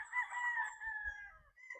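A young rooster, a five-month-old stag, gives a single drawn-out crow, close and clear against a quiet background.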